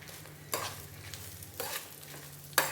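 Lentils fry with a pinch of turmeric in a pan, a soft steady sizzle broken by three sharp scraping stirs spaced about a second apart, close by and with no talk.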